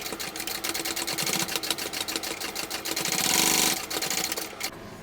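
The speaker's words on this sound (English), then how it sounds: "I'm going to top stitch on my side panels" A sewing machine topstitching the side panels of a bucket bag runs in a steady, fast, close mechanical chatter for the whole stretch, briefly speeding up and growing louder partway through, with no talking.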